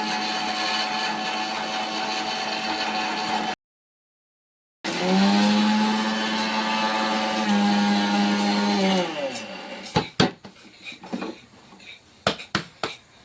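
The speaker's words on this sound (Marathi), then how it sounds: "आता हे बघा याच्यामध्ये भरपूर डाळी आम्ही मिक्सर मधून गाळून टाकल्या" A kitchen mixer grinder whirs loudly and steadily while grinding makhana and dal, cuts out briefly, restarts, then winds down with rattling knocks as it stops.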